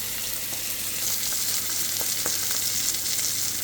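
Sirloin steak fries in a hot pan with a steady, close sizzle and faint crackles and pops, no voices over it.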